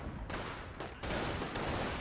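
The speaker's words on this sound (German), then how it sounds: "Was für ein gezielter Schuss." Gunfire in Company of Heroes, a World War II strategy game: dense, continuous crackling volleys of rifle and machine-gun shots over about two seconds, with a brief lull near the middle before the shooting swells louder again.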